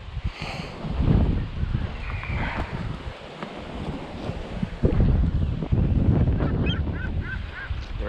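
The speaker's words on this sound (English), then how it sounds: "Bird's going crazy over there this morning." Birds call out over the water on a morning fishing trip at Sebastian, with goose-like honks sounding at a distance beneath heavy wind buffeting the microphone.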